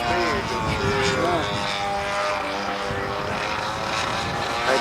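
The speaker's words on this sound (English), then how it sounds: "that was his engine burbling" A model airplane's small engine burbles steadily overhead in flight, its propeller drone wavering in pitch at moderate distance, with people talking over it outdoors.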